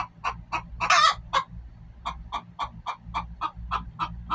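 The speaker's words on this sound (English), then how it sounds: "The chicken song is also a song of support." Hens in a coop during egg laying give repeated rhythmic clucks and calls in short bursts, with one louder squawking outburst, close and clear over a low background hum.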